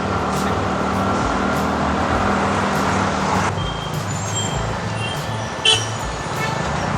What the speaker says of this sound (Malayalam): ഹോൺ അടിച്ചിട്ട് ഒരു കാര്യവുമില്ല.